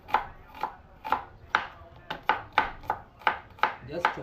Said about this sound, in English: I'm trying to chop or cut the onions